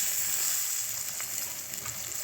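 Green chilies frying in hot tempering oil for a chutney, a steady close sizzle and crackle that holds even throughout, with no talking.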